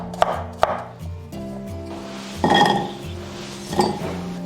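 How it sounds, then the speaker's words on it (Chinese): Ginger is cut into small pieces with a knife on a board: sharp, distinct chops, two quick ones, then several heavier, irregular strikes with a faint clink, close and alone. "生姜我们给它切成小块就好"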